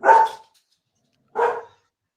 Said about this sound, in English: That'd be my dogs.